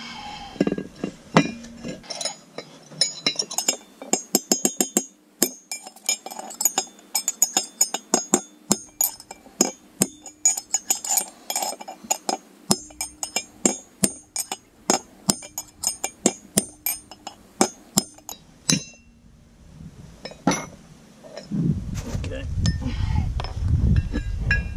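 Hammer tapping out bearing races from a small boat trailer hub, a long run of sharp metallic knocks in irregular bursts, close and loud, with brief pauses and a rustle at the end.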